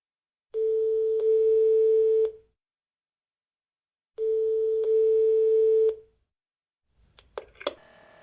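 A telephone line gives two long, steady ring-back tones separated by a pause, then a short burst of clicks and line noise as the connection to a voicemail system picks up.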